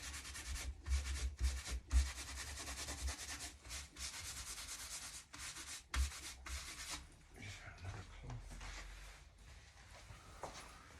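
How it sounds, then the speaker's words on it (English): A dry cloth rubs back and forth over chalk-painted furniture, making soft, rhythmic swishing strokes with brief pauses between passes, close and fairly quiet. "Now I've got a dry cloth and I'm just going to rub it all over."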